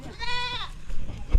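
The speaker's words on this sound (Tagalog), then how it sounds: "Narinig mo naman yung kambing ni kuya." A single goat on a small farm gives one wavering bleat close by, rising and falling over about half a second, set against low background rumble and a brief knock near the end.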